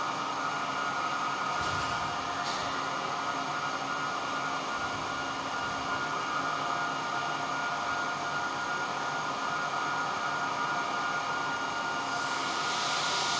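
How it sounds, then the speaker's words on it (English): A cooling fan at the SAQ Grimeton VLF transmitter roars with loud, steady rushing air from start to finish, a dense broadband blast with no pauses or talk. "And now you can hear the fan start."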